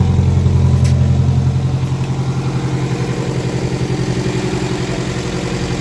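A Datsun 1200 engine runs steadily at a loud, rough idle close by, its low exhaust rumble pulsing evenly throughout with no voices.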